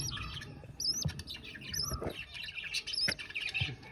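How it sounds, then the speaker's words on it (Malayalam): Blue lovebird chicks chirp and squawk close by in a nest box, with a rapid string of high, shrill tweets and calls over light household background noise. "നമ്മളെ ബ്ലൂ കളർ ലോ ബേഡ്സിൻ്റെ കുട്ടികളാണ് കേട്ടോ"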